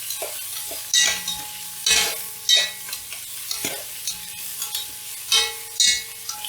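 Sausages and red onions sizzle in a pan, a steady frying hiss broken by repeated scrapes and stirs of a utensil against the metal, with a low hum underneath.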